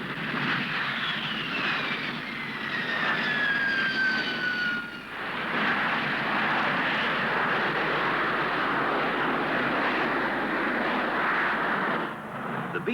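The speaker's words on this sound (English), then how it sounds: "Powered by a Bristol Siddeley Pegasus PS53 engine, its swiveling jet nozzles enable it to use the shortest airstrips, rise and land vertically, and hover." A Hawker Siddeley P1127 jump jet with a Bristol Siddeley Pegasus engine roars steadily overhead at an airshow, a loud continuous jet whine with a falling pitch sweep early on, heard alone for about thirteen seconds.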